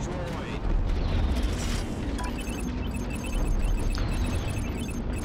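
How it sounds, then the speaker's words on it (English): Missile launches and explosions in the space combat game Strike Suit Zero: a steady, dense roar of booms and bursts with rushing whooshes over a constant low rumble, loud and unbroken. "Firing all the missiles."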